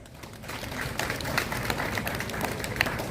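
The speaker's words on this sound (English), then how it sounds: "Let's give him a round of applause." Audience applause at a national Muslim conference held in a mosque in Ghana: scattered, moderately faint clapping from a seated crowd, irregular and sustained without voices.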